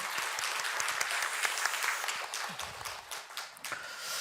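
A church congregation gives applause during a Sunday morning worship service, many hands clapping in a steady, fairly distant patter that thins slightly toward the end, with no talk over it.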